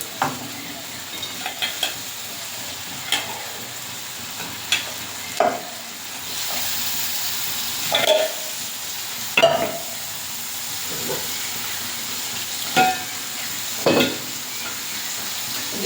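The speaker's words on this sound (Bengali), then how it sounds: "এবারে দিয়ে দেবো ধুয়ে রাখা মাংস" Washed meat going into hot oil spiced with five-spice (panch phoron) in a village kitchen over a coal fire, giving a steady sizzle with repeated stirring scrapes and clinks through the whole stretch, with no voices.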